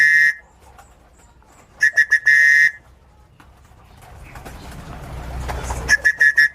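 Sharp, high whistle blasts call racing pigeons: a short burst, then a quick series of clipped whistles, a pause with low background rumble, and another fast run of whistles at the end.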